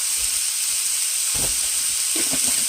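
Garlic frying in a pan gives a steady, loud hiss and sizzle throughout, with a few brief low clatters from the pan partway through.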